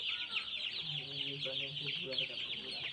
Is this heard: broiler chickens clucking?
yes